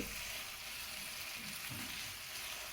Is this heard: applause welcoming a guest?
no